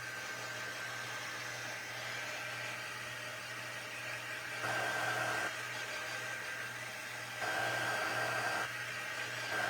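A hair dryer drying paint on a craft reindeer, blowing with a steady whooshing hiss and a low motor hum, getting louder twice for several seconds as it is aimed closer.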